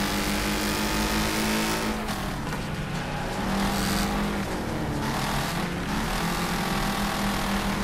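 Racing car engines in the Wreckfest video game roar continuously at close range, a rival car approaching from behind with rising revs and shifting pitch, loud and steady with no talking.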